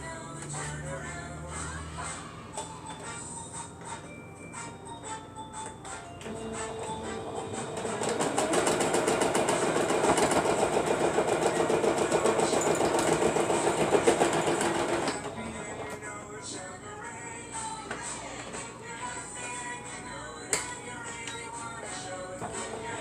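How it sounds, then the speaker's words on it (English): A sewing machine stitching down the petals of a fabric rose pincushion: a steady, close mechanical whir that begins quietly, runs louder for several seconds in the middle, then drops back to softer handling sounds, with no talking. "now we're going to start sewing them down."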